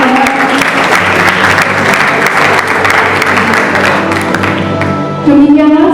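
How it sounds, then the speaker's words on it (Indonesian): Sustained audience applause at a high school student council handover ceremony in Malang, a dense, steady wash of many hands clapping, loud and continuous, with a louder burst at the end. "kita bisa beri tepuk tangan sekali lagi teman-teman."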